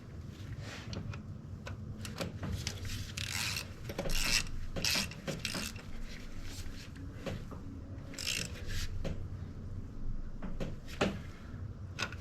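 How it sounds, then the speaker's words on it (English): A ratchet seating a bolt on a 2014-or-later Jeep KL Cherokee engine during an oil cooler replacement, a run of close mechanical clicks and bursts of rasping pawl sounds, with no talking. "Then we'll seat it with the ratchet."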